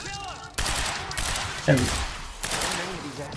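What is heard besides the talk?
gunshots in the video game Quantum Break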